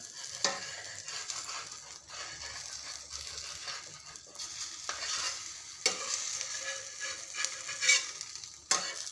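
An egg omelette fries in a pan as street food, sizzling steadily at close range with a few sharp scrapes and knocks from a utensil, and no talk.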